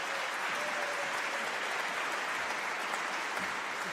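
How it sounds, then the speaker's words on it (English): Steady applause from an evening awards ceremony audience welcoming the man presenting certificates, a continuous, moderately distant wash of clapping with no voices on top. "Give him a round of applause."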